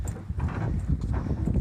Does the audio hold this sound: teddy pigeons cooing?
no